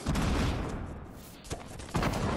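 Gunfire in a Fortnite catch game mode match: a couple of sharp cracks and thumps over a busy game soundtrack, with a louder hit near the end and no speech.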